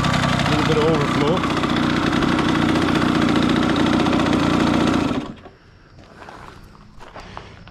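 A 1992 Kawasaki KX80 dirt bike engine runs with a steady, busy two-stroke drone for about five seconds, then cuts out, leaving quiet background noise.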